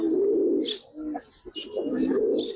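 A silver gribaz pigeon gives deep, throaty coos in two bursts with a short break between. The bird is close and fairly loud, and faint background noise sits behind it.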